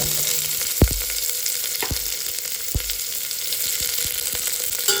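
Onion frying in a pan until golden, a steady close sizzle with several sharp spoon knocks against the pan spaced through it.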